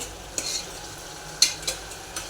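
A spatula stirs Gujarati vaal bean curry (vaal nu shaak) sautéing in a pan, giving a few quiet, scattered scrapes over a faint, steady sizzle, with no voices.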